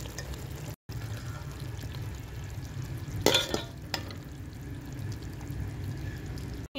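Kaleji masala of cooked liver is stirred in a pan after garam masala is added. It sizzles softly and steadily, with one brief louder scrape of the spoon near the middle. No one speaks.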